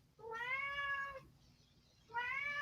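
A kitten meows twice indoors: a long, drawn-out meow, then after a quiet pause a second one that is cut off at the end. Both are close and clear, with no talking.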